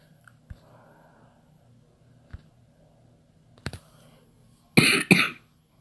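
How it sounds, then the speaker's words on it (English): Two sharp, close coughs near the end come from a young gamer playing Castle Wreck on an Xbox One. They follow a few faint clicks and soft throat sounds in an otherwise quiet room. "Sorry if I cough too."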